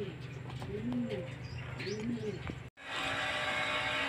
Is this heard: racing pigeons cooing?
yes